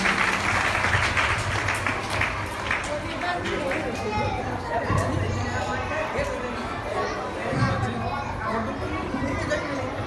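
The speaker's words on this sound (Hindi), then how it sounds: "जोरदार तालियां बजाएंगे उनके लिए" An audience at a religious discourse gathering breaks into loud, sustained clapping that fills the room steadily, with crowd murmurs mixed in.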